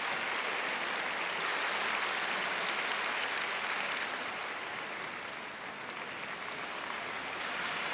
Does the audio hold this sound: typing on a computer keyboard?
no